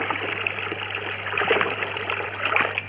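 Water sloshes and trickles steadily as an animal swims and bathes. The splashing is close and fairly loud over a low hum, with no speech.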